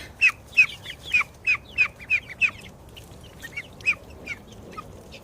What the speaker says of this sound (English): These are Welsh Harlequin ducks.